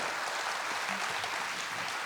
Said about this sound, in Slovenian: En velik aplavz za te mladince